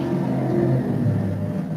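Vehicle driving past outside, a low engine rumble with a slight rising whir that holds steady at moderate volume for a moment.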